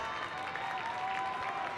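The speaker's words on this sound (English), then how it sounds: "rhythmic clapping from the Fairfield Ward fans down the first baseline" High school baseball fans down the first baseline keep up steady rhythmic clapping, a dense crowd sound at even loudness throughout with no talk over it.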